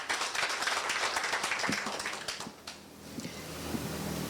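An online audience claps for a club president at a Soroptimist International e-club constitutive assembly, dense scattered clapping filling the first half and thinning out toward the end.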